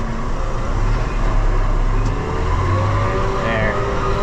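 Engine of a vehicle used for cutting and raking hay, running steadily with a loud, constant low rumble close by while being put in gear.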